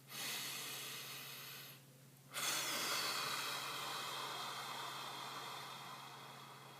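A long, steady exhale hisses close to the microphone, then pauses briefly before another extended breath out, slow and drawn-out as in deep relaxation breathing.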